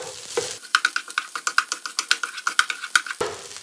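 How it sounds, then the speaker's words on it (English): A utensil scrapes and knocks rhythmically against a pan while eggs and rice are stirred, about a dozen quick strokes in steady succession over a faint sizzle. "So keep stirring it."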